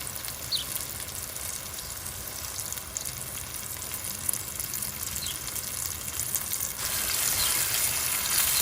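Green paste sizzles and fries in a pan while pomfret caldine is being cooked, a steady soft crackle that grows louder and brighter toward the end, with no talking.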